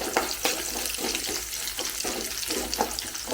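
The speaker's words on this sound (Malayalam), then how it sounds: "അതായത് നമ്മുടെ ഇഞ്ചി വെളുത്തുള്ളി ഒക്കെ ഒന്ന് മൂത്ത് വന്നിട്ടുണ്ട്" Ginger and garlic fry in a pan for a green peas curry, a hissing sizzle that swells and fades in regular pulses as it is stirred, close and fairly loud.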